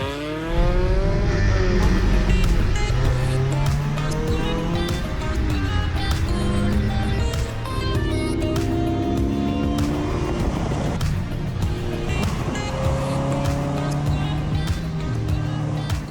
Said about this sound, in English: we need you to spend the day actually doing crazy car moves